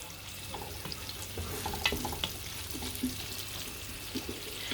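Onions cook in a frying pan with a low, steady hiss and scattered light crackles, fairly quiet and continuous, with faint clicks of utensils now and then.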